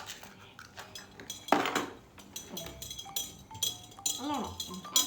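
A spoon scrapes and clinks against a bowl in quick, uneven strokes, mixing mango pancake batter with eggs, with brief speech mixed in.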